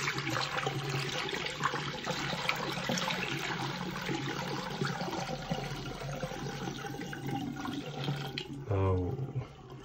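Dirty water pours out of the tank of a Roborock S7 Max Ultra robot vacuum in a steady close splashing rush, ending with a brief gurgle as the last of it drains.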